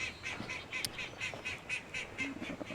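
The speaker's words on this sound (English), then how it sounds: "little ducks we actually have because my daughter loves ducks" Small farm ducks quack in a quick, regular series of short, nasal calls, close and fairly clear over a quiet outdoor background.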